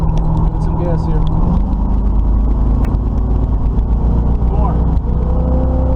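A Camaro V8 with a freshly installed carburetor idles with a loud, deep, lumpy rumble and rises into revs, with a brief pop partway through; a voice speaks briefly over it.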